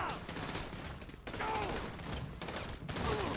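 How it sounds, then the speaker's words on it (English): Gunfire in GTA with police mods: a continuous rattle of rapid shots in three dense bursts separated by brief gaps, close and loud, with a player's voice faintly under it. "Who the fuck is shooting me?"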